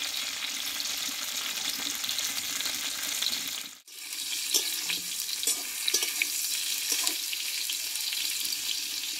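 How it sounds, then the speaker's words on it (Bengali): Pointed gourd sautéing in mustard oil with five-spice, a steady crackling sizzle that cuts out briefly, then returns with occasional stirring scrapes and clinks over the frying hiss. "পটলটা কিন্তু এখনো কিছুক্ষণ কষাতে হবে, খুব অল্প আছে, আমি কষিয়ে নেব"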